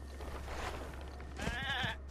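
A goat in The Legend of Zelda: Breath of the Wild on Wii U lets out a short wavering bleat near the end, heard over a low steady background hum with no talking.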